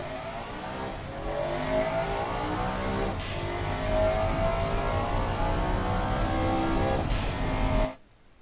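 A 1990s supercar in the Automation game accelerates hard down a quarter-mile run, its engine revving loudly and climbing through several gear shifts before cutting off abruptly near the end.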